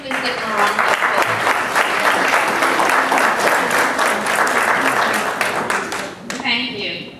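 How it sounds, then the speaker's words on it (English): A banquet hall crowd at a church gala applauds honored families, sustained full clapping from many people that tapers near the end as a voice begins to speak. "Please give them a round of applause."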